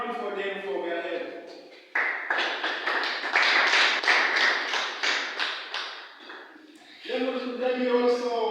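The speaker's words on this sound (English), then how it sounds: "Let me first welcome in judges and clap for them for their help." Audience clapping for the judges at a debate event, a dense burst of many hands that swells and holds steady for several seconds between stretches of a nearby speaking voice.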